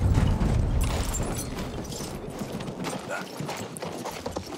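Horse hooves clip-clop steadily while riding in Battlefield 1, a dense rapid gallop rhythm under rumbling game ambience, loud and close throughout.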